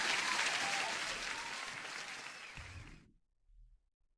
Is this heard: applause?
yes